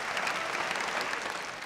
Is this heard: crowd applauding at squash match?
yes